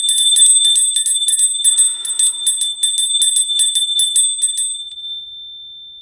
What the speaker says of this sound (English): I'm just going to use my bell to raise the vibrations here